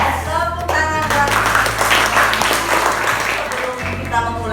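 A class of sixth-grade children claps together in a morning classroom, a dense, steady patter of many hands lasting several seconds, with a teacher's voice heard briefly at the start and end.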